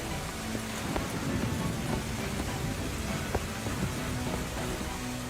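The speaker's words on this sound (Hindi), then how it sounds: "बारिश और भी तेज हो गई।" Heavy rain in a cartoon pours down as a thick, continuous roar, with scattered drops pattering close by and a faint low rumble underneath.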